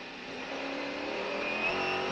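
A Mercedes race car at Le Mans braking and leaning left through the banked approach to Arnage corner, its engine a steady, fairly faint drone that swells slightly toward the end.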